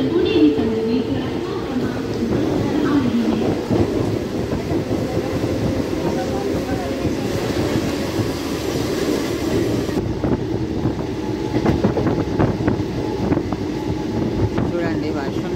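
Mumbai local train pulling away from Diva Junction in heavy rain, a continuous rumble and rattle of wheels with wind buffeting the microphone, heard from inside the carriage.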